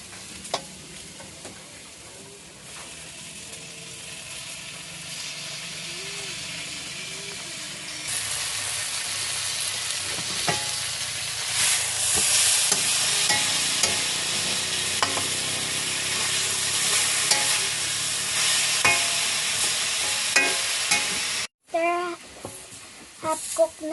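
Meat and other ingredients sautéing in a pan with oyster sauce, a steady loud sizzle with scraping and stirring clatter, a quieter stretch before it swells, and a voice speaking faintly over it.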